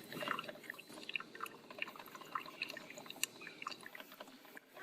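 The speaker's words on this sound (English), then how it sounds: "let's just listen to this wonderfully rich coffee as it's dripping into my carafe" Faint, irregular dripping and trickling of 8 O'Clock coffee into a carafe from a coffee maker, with soft splashes scattered over a quiet background and no talking.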